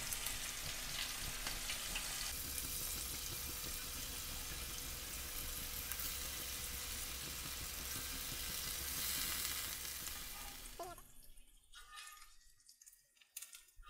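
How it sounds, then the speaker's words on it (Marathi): Potato wedges shallow frying in a pan for fasting-day sizzlers make a dense, steady close sizzle that holds for about ten seconds, then drops away to quieter scattered crackles and faint clinks. "हे बघा, आता ह्या जे कापलेले होते ना आपण बटाट्याचे वेजेस ते मी शॅलो फ्राय करून घेते आता"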